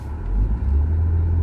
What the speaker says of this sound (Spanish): estoy viendo que vienen unos carros de la Guardia Nacional aquí en San Luis